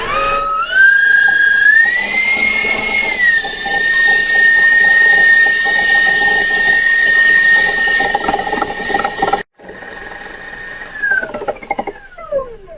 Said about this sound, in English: I'm going to turn the mixer back on and keep it going for the remaining time.